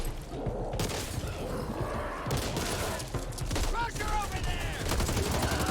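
Rapid gunfire from a zombie fight in Back 4 Blood on the Nightmare difficulty, dense and continuous at moderate level, with bursts, thuds and game effects layered throughout.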